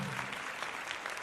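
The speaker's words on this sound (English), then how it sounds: "But, oh yeah, clap." Applause at a LEGO Office Week awards ceremony livestream, a brief steady patter of clapping with no break, moderately near and even in level throughout.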